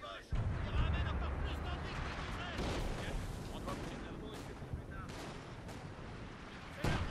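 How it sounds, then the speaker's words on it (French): Artillery barrage in the video game Company of Heroes 2: dense, continuous booms and rumbling blasts fill the whole stretch, loud and close, with game voices mixed faintly into the din. "On arrose la cible avec l'artillerie."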